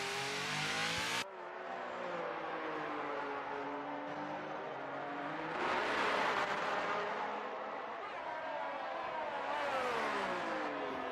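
F1 race car in the F1 22 video game at the Brazil round, its high engine whine swelling and dropping in pitch as it revs and shifts, steady and loud throughout with no talk over it.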